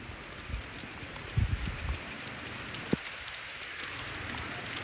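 Rain falls steadily on an outdoor surface near onions in a field, an even wash of patter broken by a few louder drops and knocks.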